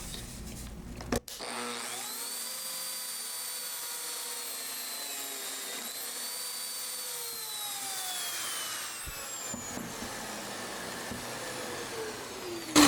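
A Lamello Zeta P2 power tool spins up with a sharp click and runs a high, steady whine while cutting a mortise in wood, then winds down into scraping and handling noises.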